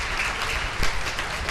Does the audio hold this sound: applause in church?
yes